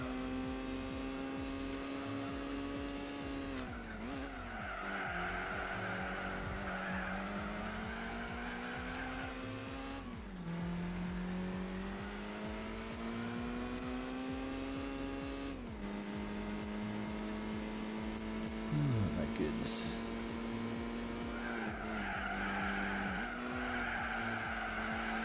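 A VW Lupo race car in Gran Turismo 4 drones at high revs, and its pitch drops with each gear shift every few seconds before climbing again. Tire squeal and skids break in briefly, and the engine stays close and steady.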